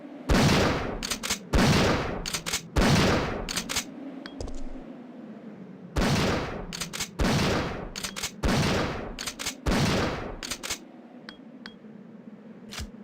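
Video game gunfire rattles in several loud automatic bursts separated by short pauses, with metallic clicks and a faint humming backdrop between volleys.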